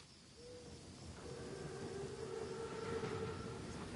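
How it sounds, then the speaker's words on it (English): A German armored train (Panzerzug) in the Call of Duty WWII video game rumbles faintly in the distance, its low rolling drone growing slowly, with thin whistle-like tones drawn out over it. "Train's right on time."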